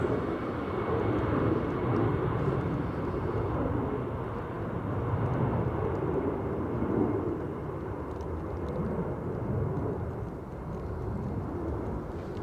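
A Lufthansa airliner passes by at Manchester Airport on a stormy day, its broad engine rumble swelling and easing steadily as it goes, with no voices.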